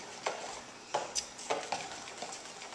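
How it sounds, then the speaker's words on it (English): A spoon stirring monkey cream pie filling in a bowl, quiet irregular scrapes and soft clinks spaced through the clip. "what you want to do is get it all stirred up real good"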